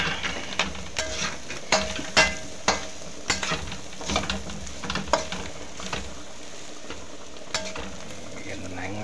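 Carrot and radish are stirred in a sizzling pan while cooking bopis, with sharp spatula scrapes and clanks repeating irregularly over a steady frying hiss, close and loud.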